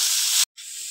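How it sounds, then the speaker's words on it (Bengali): Figs with salt and turmeric sizzle loudly in a hot pan as they are stirred, a steady bright hiss that cuts out for a moment and then resumes slightly softer. "এবার ডুমুরটাকে একটু নাড়াচাড়া দিয়ে ভালো করে একটু কষিয়ে নেব"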